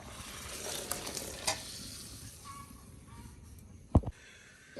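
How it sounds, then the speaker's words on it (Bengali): Oil going into a hot pan for cooking taro leaves, a soft steady hiss with faint crackles, ending in a couple of louder clanks of metal against the pan. "এই যে তেল দিয়ে দিচ্ছি"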